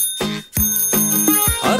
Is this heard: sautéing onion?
no